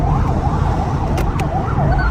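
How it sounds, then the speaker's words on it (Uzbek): An ambulance siren wails in a repeating rising and falling pattern, close and steady, over road traffic noise while the vehicle pushes through to clear the way. "Tez yordam kelyapti, yo'l beramiz"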